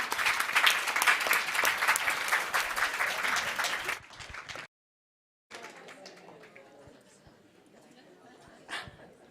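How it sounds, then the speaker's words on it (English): Loud audience applause for panelists at a summit, lasting a few seconds, which stops abruptly; afterward quieter room sounds and a few scattered claps follow. "Please, another round of applause for that powerful discussion and our incredible panelists."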